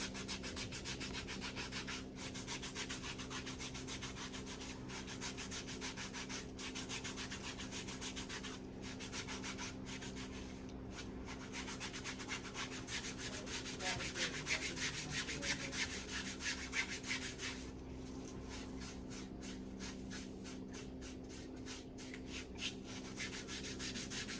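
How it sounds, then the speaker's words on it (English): A purple pumice stone scrubs a foot during a spa pedicure, a continuous close rasping rub with a steady low hum underneath and no talk. "I use the purple stone to scrub it one more time to make sure everything clean"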